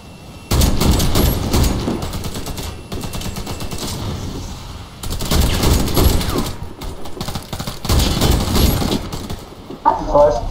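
Gunfire in the Warface video game comes in loud, rapid bursts separated by short pauses, with a voice talking over it in places.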